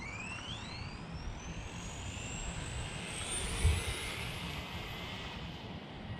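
Whining electric motor of an ARRMA Talion 6s RC car under throttle at a construction site, a high rising and falling tone sweeping upward over a steady rumble, with a brief thump midway.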